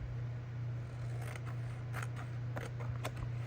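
Scissors snip through lined notebook paper in a quiet room: a few short, crisp cuts arrive close together over a low steady hum, with no voices.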